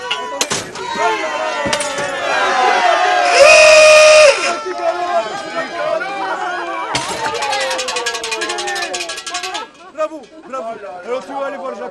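Outdoor crowd at a Soulac 1900 race event cheering and shouting encouragement to a passing runner, a dense lively roar with whistles and a sustained loud burst near the middle, mixed with close voices talking.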